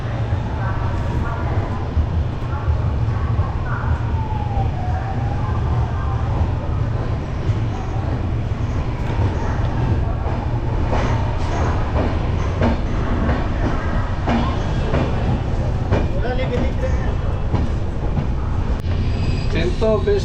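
Steady, loud rumble and rattle inside the moving Kolkata–Jogbani Express as it passes Kolkata station, with faint clicking of the wheels and soft voices in the carriage throughout.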